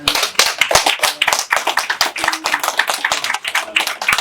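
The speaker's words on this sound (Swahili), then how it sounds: "Makofi kwake." Close, lively clapping from a crowd at a Swahili-speaking gathering, many hands striking in fast uneven bursts with distinct sharp claps standing out near the listener.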